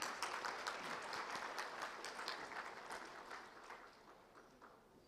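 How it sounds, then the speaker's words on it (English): Applause from an audience at a chemicals and petrochemicals summit: sustained clapping from a crowd in a hall, steady at first and slowly tapering off toward the end. "Can we have a please huge round of applause for ma'am?"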